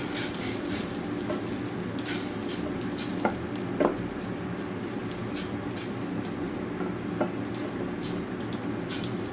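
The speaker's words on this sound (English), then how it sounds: "Now we'll give this a stir." Food sizzling steadily in a frying pan while being stirred, a continuous hiss with a few faint scrapes and taps, close and moderately loud, no talking.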